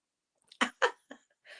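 Sneezing from a person, heard as two sharp, close bursts followed by a smaller third burst and a softer breathy trailing sound, in a quiet setting.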